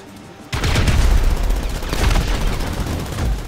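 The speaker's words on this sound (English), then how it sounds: "Oh god, I exploded Miss Piggy" Gunfire and an explosion in GTA V during a Faggio scooter parkour race, a loud sudden blast of shots and booming after a brief quiet moment, with dense rattling fire continuing.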